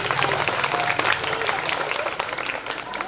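Audience applause at a school cultural program, a steady wash of many hands clapping that fills the whole stretch at moderate loudness, with faint crowd murmur mixed in.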